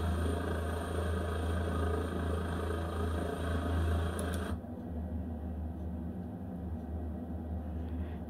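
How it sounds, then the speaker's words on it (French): Simulated helicopter hovering a few centimetres off the ground in a VR flight simulator, a steady low droning rotor and engine hum that runs evenly, with the upper hiss dropping away partway through while the deep drone continues. "On voit bien ici que l'hélicoptère est à quelques centimètres du sol"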